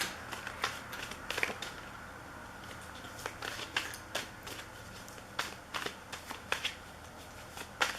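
A deck of tarot cards is shuffled close up, with soft rapid riffles and sharp flicks and taps at an irregular pace as cards are handled and drawn. The sounds are quiet and there is no talking.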